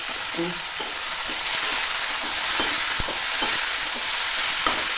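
Green beans sizzle steadily in a pan with onions while a spoon stirs and scrapes through them, close and alone, with occasional knocks against the pan.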